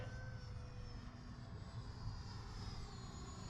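An Arrows RC Viper 50mm electric ducted fan model jet in gentle flight gives a steady, loud, continuous whine and rushing roar with no pauses and no voices.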